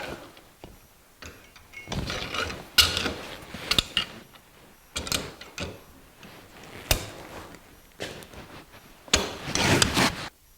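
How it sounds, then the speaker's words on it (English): A bent metal fuel regulator bracket from a 1949 Chevrolet gasser is worked in a bench vise, with irregular close clunks, knocks and scraping bursts separated by short pauses. "We'll take this bracket, put it in the vise, and take some of the bend out of it."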